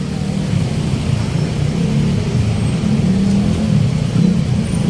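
Steady road traffic on the NLEX-SLEX connector near Pandacan, a continuous low engine rumble and tire roar from several passing cars, fairly loud and even throughout with no talk over it.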